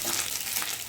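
Ginger-garlic paste fried in a little oil with black cumin and slit green chillies, stirred in a pan; a steady close sizzle heard briefly on its own.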